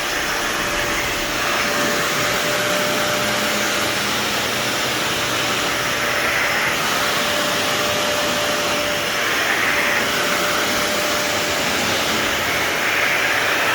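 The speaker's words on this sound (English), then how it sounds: "what we're doing now is vacuuming up the dust from the polyurethane" A vacuum cleaner sucks up polyurethane dust from a buffed hardwood floor, a loud, continuous motor roar with a steady high whine throughout, no voices.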